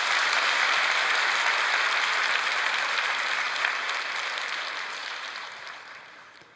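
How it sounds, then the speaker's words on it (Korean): Church congregation applauding after the choir's hymn, a dense steady clapping that fills the clip and gradually fades toward the end, with no talking over it. "우리 박수 한번 쳐주십시오."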